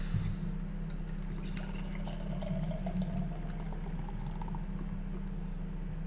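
Hazy double IPA beer is poured aggressively from a cold can into a glass, a soft continuous trickle and gurgle with faint fizzing drips over a low steady hum, quiet and close.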